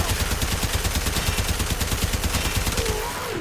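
A Fulmin gun firing in AR mode in Warframe, with rapid, evenly spaced automatic shots in a loud, continuous stream and a brief electric whine near the end.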